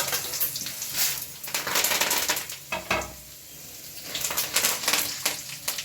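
Mustard seeds, cumin, chana dal, urad dal and dried red chillies sizzle and crackle in hot oil in a pan, a steady close frying hiss with scattered pops and some stirring scrapes, no talk.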